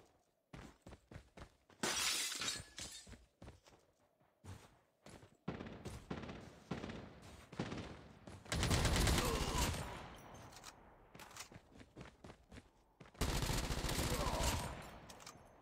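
Gunfire in GTA Warzone: bursts of rapid weapon shots mixed with sharp cracks and shattering glass-like impacts, arriving in dense clusters separated by short pauses.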